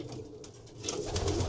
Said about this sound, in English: they're typical of Vandenebelle pigeons